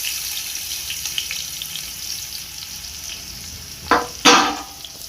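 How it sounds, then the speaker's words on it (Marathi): Three large chopped onions frying in hot oil for Kolhapuri misal, a steady close sizzle with two sharper bursts of stirring or scraping near the end, no talk. "ह्या कांद्याला आपण लालसर होईपर्यंत थोडं भाजून घ्यायचं आहे"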